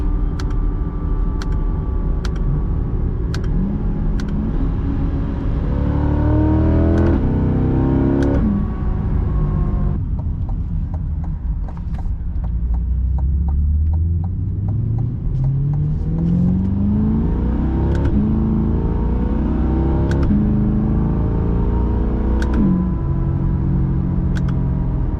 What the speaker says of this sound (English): it's very audible with the exhaust set in touring mode. Let's go over into like Z mode and see how much